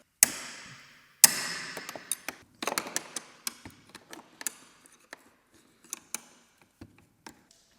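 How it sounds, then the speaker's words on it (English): Wrench loosening bolts on an abandoned farm ATV, a series of sharp metallic clicks and taps, close and fairly quiet, with irregular gaps between them and no talk. "All right, so I've loosened those two bolts."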